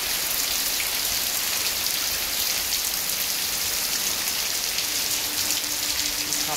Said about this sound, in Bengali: রেলওয়ে কোয়ার্টারে থাকাকালীন বৃষ্টির সুন্দর মুহূর্ত।